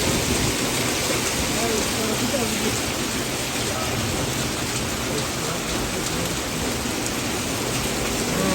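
Heavy rain mixed with hail pounds down in Dushanbe, a dense, steady roar of drops and pellets that stays loud and unbroken throughout with no pauses.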